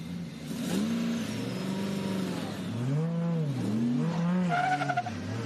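Drift cars, a Mazda RX-8 leading and a Nissan S14 chasing at Pheasant Wood Circuit in NSW, roar past with rising and falling engine revs and screeching tyre squeal, loud and continuous through the run.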